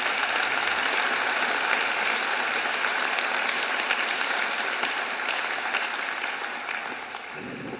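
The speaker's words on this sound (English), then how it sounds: "Please join me in another round of applause for all our award winners." Sustained audience applause for award winners at a university graduation ceremony in Sydney, a steady wash of many hands clapping at close range, slowly fading toward the end.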